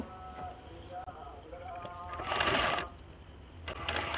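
A domestic sewing machine stitches a seam around a silk blouse with no overlocker, its whirring run swelling into a louder, brighter burst near the middle and again at the end, close and steady.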